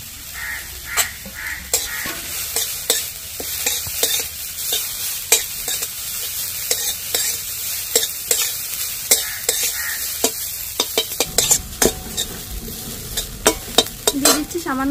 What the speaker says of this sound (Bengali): কড়াই গরম হয়ে গেছে, ঘি দিয়ে দিচ্ছি। এর মধ্যে দিয়ে দিচ্ছি আলুগুলো, হালকা তেলে নেড়ে নেব।